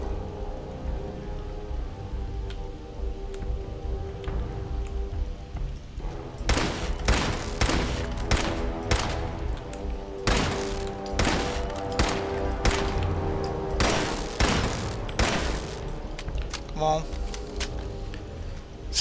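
Fallout 4 turret gunfire in the Corvega Assembly Plant, rapid bursts of sharp automatic shots crackling in clustered volleys, loud and close, with a voice speaking around them.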